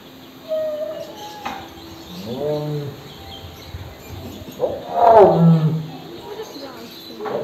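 A lion roars at a zoo, a deep, rumbling call that swells near and loud in the back half, with people talking over the start of it.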